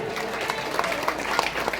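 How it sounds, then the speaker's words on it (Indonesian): A crowd at a religious gathering claps, a dense rattling patter with scattered louder claps, steady for the whole stretch and mixed with a murmur of voices. "Tepuk tangan buat bakul jagung."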